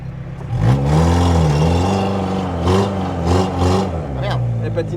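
An ARO 4x4 engine revs and labors while climbing an off-road slope, rising and falling in pitch with steady throttle, close and loud under people talking.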